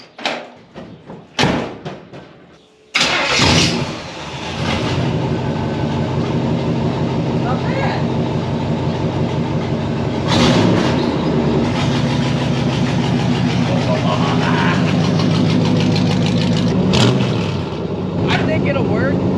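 A 1955 Buick Special fitted with an inexpensive aftermarket exhaust kit cranks and fires up, then settles into a loud, steady rumbling idle with a few revs, with people talking over it.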